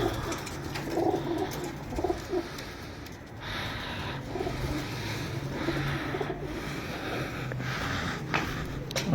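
Pigeons coo in soft, repeated low rolls from a kept pair, moderately close, over a steady background hum with scattered rustling.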